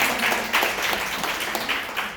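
Scattered clapping from a small audience, a brief burst of uneven handclaps at moderate volume.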